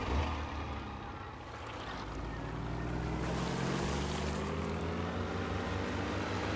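A boat engine in the survival game DayZ, on the cold, snowy Sakhal map, starts and settles into a steady low rumbling drone, with wind and lapping water running underneath throughout.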